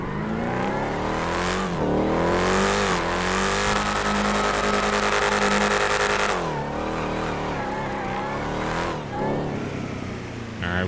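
A Porsche's engine revs hard in a GTA 5 drag race, loud rising and falling sweeps with gear changes and a sustained high wail, continuous and up close.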